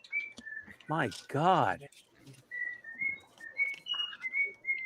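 A pet bird whistles a series of clear, sliding notes and warbles while a person speaks briefly over it nearby.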